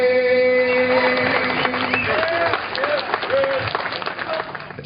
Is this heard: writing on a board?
no